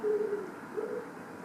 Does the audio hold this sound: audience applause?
no